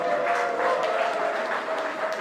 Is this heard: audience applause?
yes